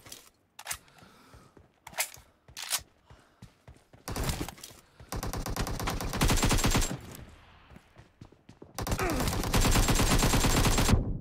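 Bursts of automatic gunfire in a team deathmatch on a mobile shooter game, starting as a few sharp scattered shots and building into long, loud, sustained rattling volleys near the end.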